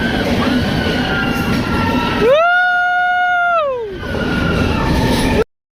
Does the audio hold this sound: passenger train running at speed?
yes